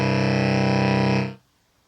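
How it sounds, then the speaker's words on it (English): A Korg Volca Keys synth plays a sawtooth-wave fifth as one loud, buzzy, harmonically rich sustained chord, holding steady for over a second before cutting off abruptly into silence. "We try fifth here with the sawtooth"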